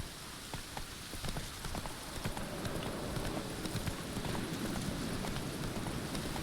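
Geralt's horse Roach gallops in The Witcher 3, quick rhythmic hoofbeats building steadily over rain-like background noise, fairly quiet and without talk.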